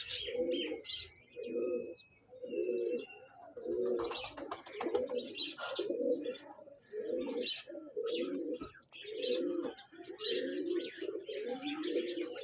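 Pigeons at a pigeon club coo continuously in a rhythmic series of low throaty calls, close and steady, with some higher chirps and faint background sounds mixed in.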